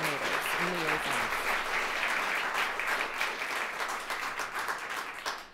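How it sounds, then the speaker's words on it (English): Audience at a state poetry recitation finals gives a round of applause for the coordinators and liaisons, dense steady clapping that fades near the end, with a brief voice at the start. "How about a round of applause for all of those coordinators and liaisons?"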